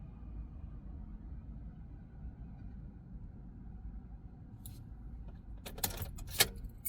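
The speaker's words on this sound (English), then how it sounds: "Now remove the key from the ignition" Key being pulled from the ignition of a 2013-2017 Nissan NV3500 van, a couple of brief metallic jangles near the end after a quiet low cabin rumble.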